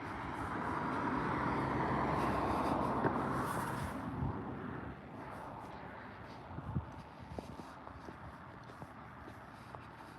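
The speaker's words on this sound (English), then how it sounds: "I'm hearing engine sounds over this right now." Car engines pass outdoors near an intersection, a broad rumble that swells and then fades as a vehicle goes by, followed by quieter traffic noise and scattered small knocks.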